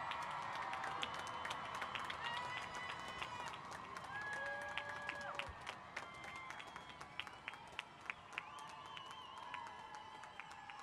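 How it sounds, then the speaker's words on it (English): A large outdoor crowd at a 2021 high school graduation applauds and cheers steadily, with dense clapping, scattered whistles and shouts sustained for about ten seconds at moderate distance. "Applaud, go crazy."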